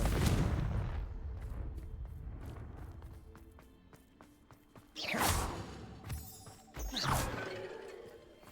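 Confringo blasting spell in the Hogwarts Legacy video game: after a dull rumbling stretch and faint clicks, two sharp whooshing blasts hit near the end, each a bright, sweeping burst with a ringing tail, fairly quiet overall.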